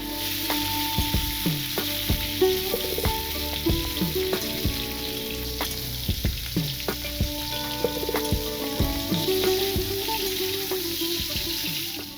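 Prawns frying in hot oil in a kadai, a continuous close sizzle with crackles and occasional stirring clatter, no voices.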